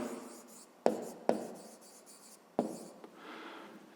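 Pen writing out a math solution on paper: quiet scratchy strokes with a few sharp taps as the pen touches down, in short bursts with pauses, close and faint.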